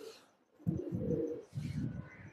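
Pigeons in a loft give two close, loud bursts of low throaty cooing, separated by a short pause.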